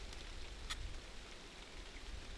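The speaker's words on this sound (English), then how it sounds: "as you can hear, the rain's starting again" Warm late-summer rain falls at a backcountry canoe campsite in Algonquin, a faint steady hiss and patter with one brief drop-like tick, no voices.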